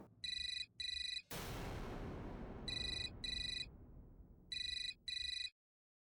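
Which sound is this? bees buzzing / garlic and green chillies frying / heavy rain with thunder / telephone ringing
telephone ringing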